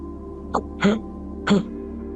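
A few short, rough coughs from an old man, three in quick succession, close and fairly loud against a quiet background hum.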